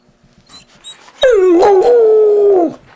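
A small dog lets out a loud, close, drawn-out whimpering howl that wavers and then holds steady before breaking off, after a few faint yips and whines.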